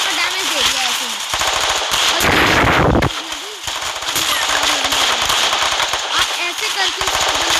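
An AWM sniper rifle and other guns fire at short range in the video game Free Fire. Loud, repeated shots and dense combat noise carry on throughout, with a voice talking over them.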